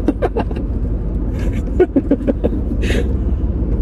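Cars crawl in a morning traffic jam in Bogor, a steady low road rumble of idling and slow-moving engines close by, with a brief hiss partway through.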